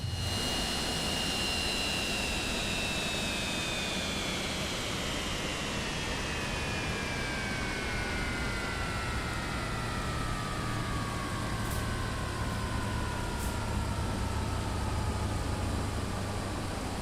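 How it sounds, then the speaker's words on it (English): Cessna Citation X business jet engines spooling down in a flight simulator, a loud continuous broadband roar with falling whine tones that glide slowly downward throughout. "Let's just turn off our engines here."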